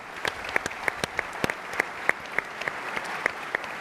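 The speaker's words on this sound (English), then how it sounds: "Let's give them all a big round of applause." An audience at an IoT innovation summit in Barcelona claps steadily after a panel, a sparse, fairly distant applause with individual hand claps standing out at a regular pace.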